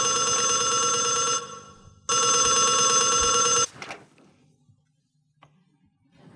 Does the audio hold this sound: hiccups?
no